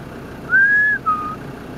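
A short human whistle: one sustained rising note followed by a brief second note, clear over a quiet background hiss.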